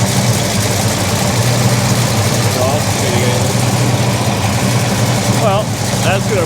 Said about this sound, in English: Cars make noise.